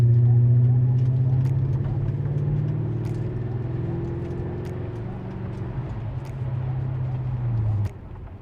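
A 2003 Mercedes E500 V8 accelerates past traffic, its engine drone rising steadily and holding for several seconds before easing off, heard from inside the car.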